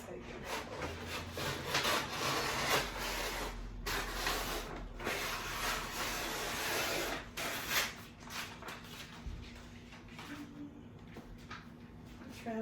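Excess sublimation paper being trimmed along a line of tape on a board, with continuous close scraping and rubbing strokes that ease off toward the end.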